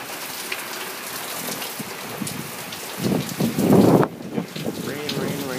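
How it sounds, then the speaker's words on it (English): Heavy rain pours during a tropical storm in Florida outside a home, a steady dense hiss of drops that swells louder for about a second near the end. "As you can see, it's raining like hell."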